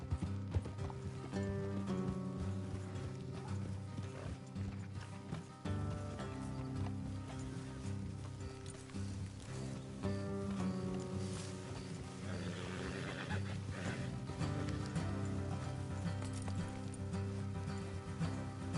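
Horse hooves clip-clop steadily in Red Dead Redemption 2, under a layered musical score and ambient game sounds, with an occasional faint whinny.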